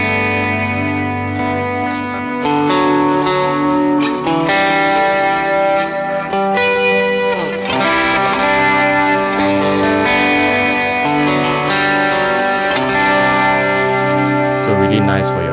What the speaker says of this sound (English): you have a short plate reverb with a 1/8 delay